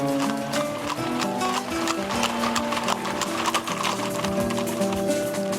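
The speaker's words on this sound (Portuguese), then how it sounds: "Deixando a cidade de Lages, a tropa começa a pisar no Planalto Serrano." A troop of horses and mules walks out of Lages onto the Serra plateau in Santa Catarina, the clip-clop of hooves under a layered music bed with continuous sound throughout.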